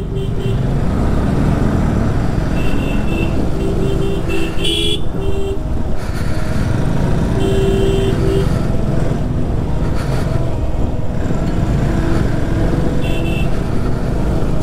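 Motorcycles including a KTM Adventure 390 and an RS 200 ride along a mountain road on the way from Omkareshwar Temple to Gopinath Temple. A constant loud engine and wind roar plays throughout, with short horn toots breaking in several times.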